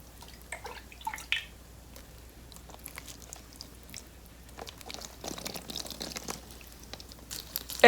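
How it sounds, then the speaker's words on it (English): Water trickling and dripping through heavily watered echeveria pots, with soft irregular drips, splashes and crinkly patters scattered across the clip, fairly quiet and close, with no talking. "I'm watering these pots like really generously, not once but few times actually. So I let the water run through"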